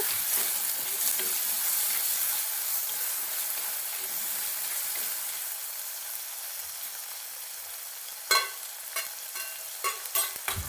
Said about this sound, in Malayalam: നന്നായിട്ട് ഇളക്കി കൊടുക്കണം. നന്നായിട്ടൊന്ന് വഴണ്ട് വരേണ്ടതുണ്ട്.